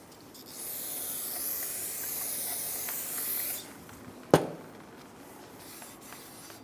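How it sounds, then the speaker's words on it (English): Parts cleaner sprayed onto a brake rotor from a rear brake job on a 2015-2021 Subaru WRX, a steady hissing spray lasting about three seconds, then a single sharp knock and quiet rubbing as the rotor is wiped with a clean rag. "Spray it down with some parts cleaner and wipe it with a clean rag."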